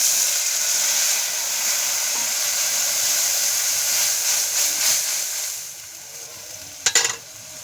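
Onions frying with added spice paste in a pan give a steady, close hiss and sizzle, fading slightly toward the end, where a brief sharp clatter of stirring cuts in; no one speaks.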